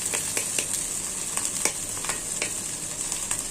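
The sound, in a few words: black cumin seeds sizzling as they go into hot oil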